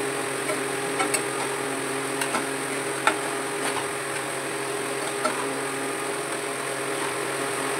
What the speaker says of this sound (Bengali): এইভাবে একটু মজিয়ে নিচ্ছি ভাজাটা।